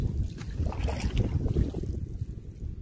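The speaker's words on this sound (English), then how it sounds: "Barely got a paddle on the way back, the wind's pushing." A canoe out on open water in strong wind, steady wind rush and buffeting water noise filling the whole stretch with no clear individual paddle strokes standing out.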